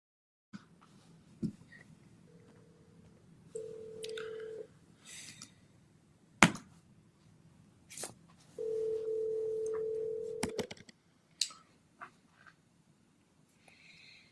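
A phone dialed through Siri plays steady ringback tones in two long bursts, separated by quiet gaps and short clicks and beeps, close and clear with no talking.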